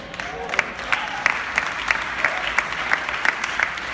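Audience clapping at a talk by Mark Sterling, a roughly even rhythm of claps, about three per second, over a steady crowd wash, with voices mixed in beneath.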